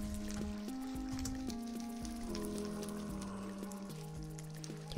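Water flowing away in Minecraft makes a soft, steady trickling wash, faint and continuous beneath louder game background music.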